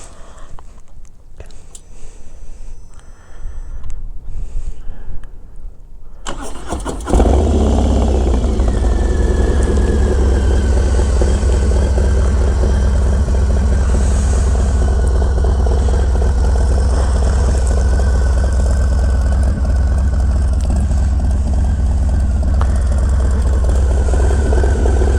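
A motorcycle fitted with a Progressive 465 shock is started after several seconds of quieter background, then settles into a loud, steady, close idle that continues to the end.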